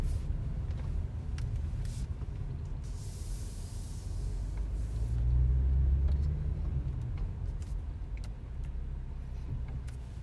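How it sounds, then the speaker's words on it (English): A 2021 Porsche Macan S SUV's quiet engine hum and road rumble fill the cabin, smooth and steady, with a brief hiss early and a low swell midway. "let's just give a listen to how smooth this car really is"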